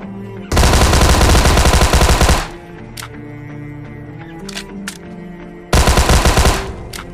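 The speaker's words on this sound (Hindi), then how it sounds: "इसे निपटाने के बाद मेरे को आगे से कुछ फायरिंग के साउंड आ रहे थे" Automatic gunfire in the mobile battle royale game BGMI: a long loud burst of rapid shots, then scattered single shots and distant pops, then another sustained burst near the end.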